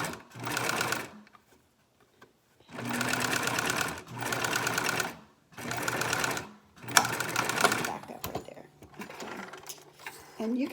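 Sewing machine stitching fabric chin pieces for a face mask, running in four or five steady whirring bursts of a second or two each, separated by pauses, close and clear with soft handling noise at the end.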